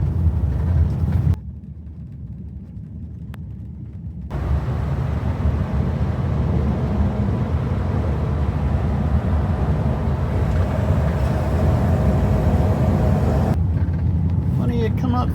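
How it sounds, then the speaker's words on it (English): A 1959 Buick LeSabre with a 3-speed drives along, its steady engine and road rumble continuous and fairly loud from inside the car, with a brief quieter stretch early on. "Rolling with Ruben this morning in the 59 LeSabre 3-speed."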